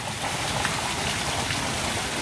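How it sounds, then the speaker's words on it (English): Steady rain falls outdoors on a warm night, a dense, even hiss of drops on surfaces filling the whole moment without a break. "It's just rain."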